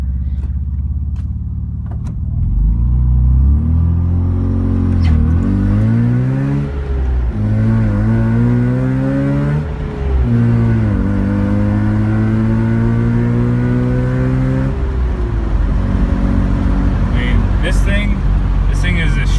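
A Mazda RX-7 SA22C rotary engine pulled from a junkyard revs up and accelerates through several rising gear pulls, loud and close from inside the car, with a voice talking over it part of the time.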